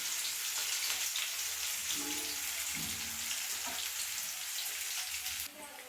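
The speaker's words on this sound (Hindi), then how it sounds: "और हमने तड़का इधर लगा रहे हैं दाल में।" A tadka tempering for chana dal sizzles steadily in a morning kitchen, a continuous bright hiss of hot oil with faint stirring clinks, ending with a slight drop in intensity near the close.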